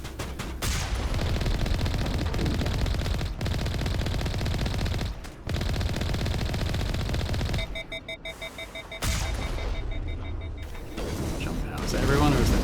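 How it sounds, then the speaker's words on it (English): Rapid bursts of vehicle cannon fire in Mass Effect, loud and continuous over a droning engine and mechanical hum, with a brief beeping tone partway through. "I think I might just shoot them with the cannons here"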